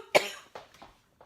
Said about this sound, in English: I just got done hacking and coughing unnecessarily